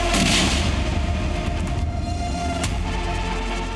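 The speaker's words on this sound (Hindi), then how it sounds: "जहां एक जोरदार धमाका हुआ और पूरा घर तहस नहस हो गया" A powerful blast tearing apart a militant's house, heard as a loud, sustained rumbling roar with a couple of sharper cracks, close and dense, with no voices.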